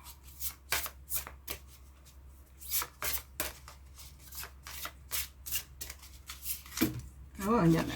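Tarot cards being shuffled by hand in repeated quick riffling bursts, close and crisp, with a voice briefly heard near the end.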